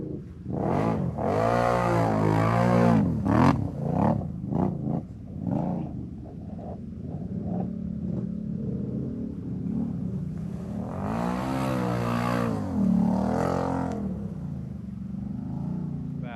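A UTV engine, such as a Yamaha YXZ or Can-Am Renegade, fires up after a mud-hole soaking and revs hard in repeated rising bursts, then settles into a rough idle before revving again, loud and close.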